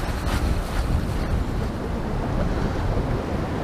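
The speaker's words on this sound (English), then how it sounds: "this wind's getting too strong to hold it now" Strong, gusty wind blows at a fishing lake on a blustery day and buffets the microphone with a constant low roar that swells and eases. No one speaks.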